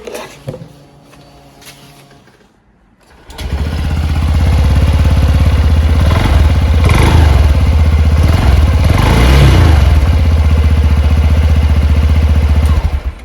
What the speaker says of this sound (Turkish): Honda Dion'un sesini dinliyoruz.